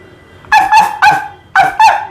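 A voice mimics a Pomeranian's yappy barking, five quick high-pitched yips in a rapid, uneven rhythm, close and loud.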